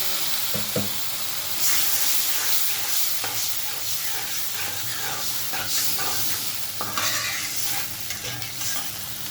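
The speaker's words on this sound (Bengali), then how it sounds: "মশলাটা কষানো" Spice masala with fried onion, melted tomato, green chillies and a splash of water sizzles and hisses loudly in a pan for Bangladeshi hotel-style dal, with repeated scraping stirs throughout and no voices.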